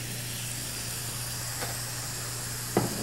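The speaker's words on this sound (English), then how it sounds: "hear that sizzle? I love that sound." A steady, broad hiss of a pan sizzling, constant and close, with a low hum beneath and a couple of faint clicks.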